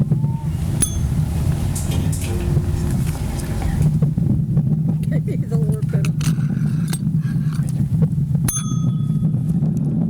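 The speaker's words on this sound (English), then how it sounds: "Our honorary bell ringer for today is Miss Joy Sykes." A memorial bell rings at a Memorial Day parade in Wood Dale, sounding several bright, sharp strikes spaced apart over steady crowd and street noise, with a voice talking over a loudspeaker throughout.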